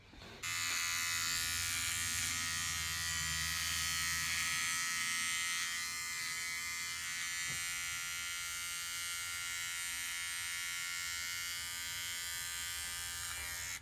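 A Remington DuraBlade electric razor buzzes steadily and close up as it shaves, a bright continuous drone with slight shifts in tone as the blade moves over skin, and no talking.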